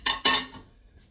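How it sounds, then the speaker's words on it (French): Cutlery and dishes clatter as they are loaded into a dishwasher in a home kitchen, two sharp close clinks in quick succession followed by a softer trailing rattle. "j'essaie de mettre dans le lave-vaisselle correctement"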